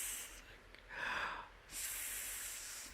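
A voice imitates soft snoring like a hissing snake, a few breathy hisses with a brief pause between, faint and close.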